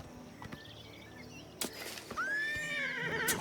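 A horse in the video game Oblivion Remastered whinnies loudly in a long, rising and falling neigh, following a few thuds and soft outdoor ambience.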